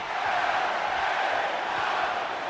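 A wrestling arena crowd in WWE 2K24 roars continuously, a dense, loud, steady wall of cheering and shouting with no break.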